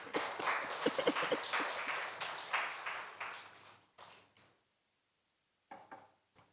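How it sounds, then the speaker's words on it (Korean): A church congregation claps for the accompanist at a Wednesday service, a quiet, fairly distant patter of applause with a few sharper claps that thins out and stops, then a brief scattered return near the end. "우리 반주자에게 박수를."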